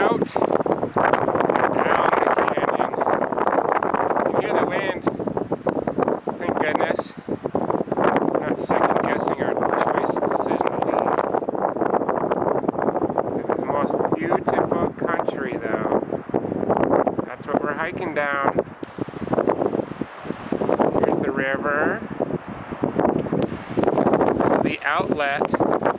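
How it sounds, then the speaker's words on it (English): Wind blows strongly outdoors at a mountain lake near Convict Creek, gusting and buffeting the microphone in loud surges, while people talk over it. "Oh yeah, there's the wind."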